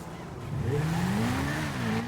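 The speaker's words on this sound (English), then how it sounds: "now, it's an engine screaming, tearing the dark apart" A car engine in GTA screams and revs at night, rising in pitch as it accelerates, loud and close, with a faint tire squeal and no talk over it.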